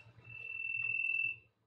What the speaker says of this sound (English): There's like crickets going on in here.